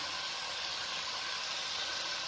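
Lamb curry ingredients with spices sautéing on low heat in a pan give off a steady, even sizzling hiss, constant and moderately close, with no talking over it.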